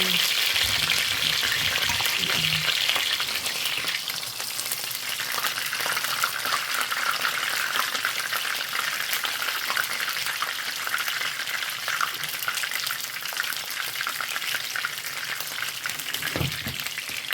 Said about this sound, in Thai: แค่ทอดปลา